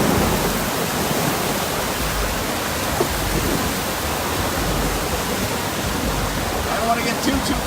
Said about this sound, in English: I think the only way really to describe this downpour is torrential.